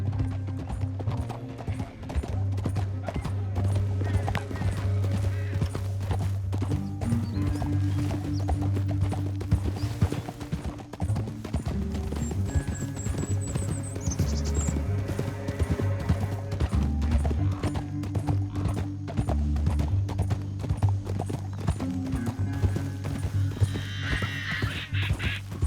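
Horse hooves clip-clop steadily at a gallop in Red Dead Redemption 2, a loud continuous drumming rhythm that runs the whole stretch, with a brief whinny and faint background game sounds.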